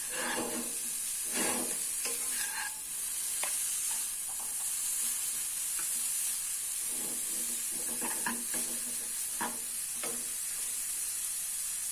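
Food sizzles and hisses steadily in a hot wok while making mi goreng fried noodles, with occasional scraping and stirring sounds near the microphone and no talking.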